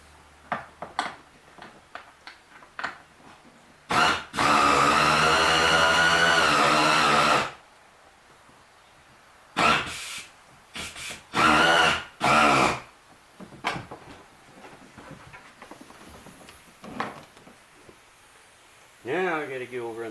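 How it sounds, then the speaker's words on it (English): Air ratchet tightening bolts on the seat of an Ozark Trails Pro Angler 12 fishing kayak, loud close bursts of pneumatic whirring, one long and several short, between clicks and handling knocks. "he's going to use an air ratchet inside because you don't have a whole lot of room"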